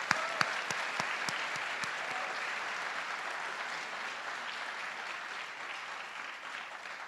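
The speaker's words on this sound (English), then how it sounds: "So a big round of applause for them." A school board meeting audience gives a steady, sustained round of applause for a high school tennis team. The clapping stays even and fairly loud throughout, with a few sharp claps standing out at the start.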